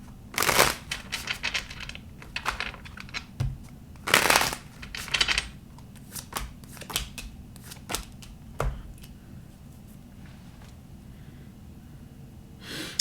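Tarot cards being shuffled in a series of crisp riffling bursts that come in irregular clusters, louder near the start and thinning toward the end, with no talking over them.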